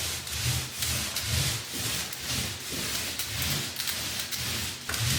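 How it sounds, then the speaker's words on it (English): A motorized paint roller rolls paint onto an interior wall, giving a steady, close rubbing and swishing texture in repeated strokes with no talk. "So you keep rolling until you don't have any more paint."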